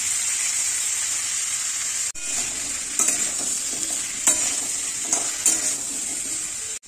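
Mixed vegetables fry in a pan, Bengali style, with a continuous close sizzle broken by a few stirring scrapes and spoon clinks, no voices.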